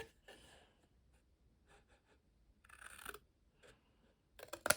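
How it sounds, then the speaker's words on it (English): A few short, crisp snips of scissors cutting paper, spaced out at first and then quicker, with soft breathing in a quiet room. "take our scissors,"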